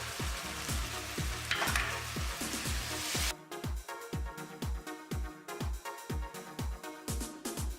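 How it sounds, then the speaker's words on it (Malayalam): Chopped tomatoes and green chillies fry in a pan for a Kerala egg dish, a bright sizzle under rhythmic, evenly spaced scraping strokes of a spoon, close up and without talk. "ഇതിലേക്ക് ഇനി 2 തക്കാളി അരിഞ്ഞിട്ടുണ്ട്. അതിൻ്റെ കൂടെ ഒരു 3 പച്ചമുളക്."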